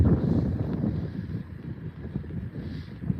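Steady wind buffeting a microphone during a heavy snowstorm in northeast Ohio, a low rumbling roar with gusts rising and falling throughout, no voices.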